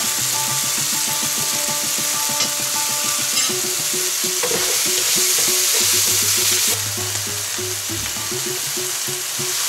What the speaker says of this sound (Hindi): पियाज जल्दी फ्राए कर सहज उपाय होची अल्प लुण पकईदे।